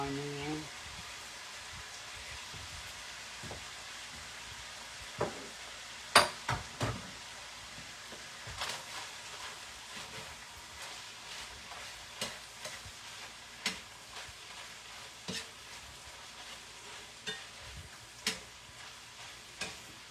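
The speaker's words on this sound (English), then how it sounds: "Here my peppers and onions going in." Sliced peppers and onions drop into a hot pan and fry with a faint, steady sizzle, while a utensil scrapes and taps against the pan at irregular intervals.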